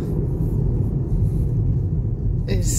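An MG ZS EV electric car rumbling over a bumpy road, a steady low rumble and road roar from inside the cabin that runs throughout, with a brief sharper noise near the end.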